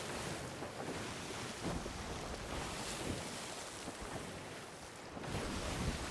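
Steady wind rushes over ocean waves as a ship sails in the Sea of Thieves video game, a continuous broad wash of surf and gusts with no talking.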